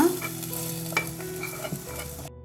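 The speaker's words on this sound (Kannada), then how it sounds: "ಬೆಳ್ಳುಳ್ಳಿ ಒಗ್ಗರಣೆನ ಈ ಸೊಪ್ಪದೊಳಗಡೆ ಹಾಕೊಳ್ಳೋಣ" Garlic tempering poured into cooked greens sizzles loudly and steadily, with a light stir or knock near the start, before cutting off abruptly; no speech.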